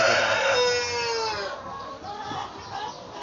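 A pet chicken crows loudly and close by, a long strained call followed by agitated clucking, with no talk.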